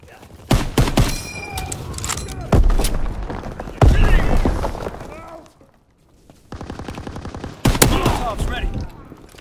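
Gunfire in the Call of Duty: WWII game, Allies team with M1 Garand: loud bursts of rifle and machine-gun fire with booming thuds, repeating in clusters with brief lulls, mixed with shouted voices.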